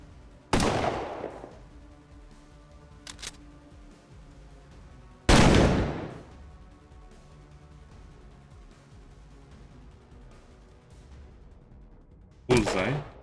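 Gunfire from a powerful gun in the turn-based video game Colony Ship: three separate loud, sharp blasts, each with a booming tail, spaced several seconds apart, and a brief fainter shot between the first two.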